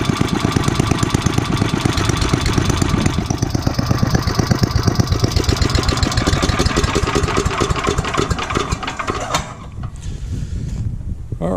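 A small lawnmower engine idles smoothly and loudly nearby with an even, rapid putter that holds steady, then eases slightly near the end.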